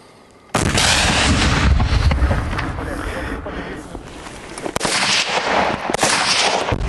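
Gunshots fired at a target during training with a Kherson territorial defense battalion: loud, sharp bursts ring out close by, with an initial blast followed by further cracks, and voices speak between the shots.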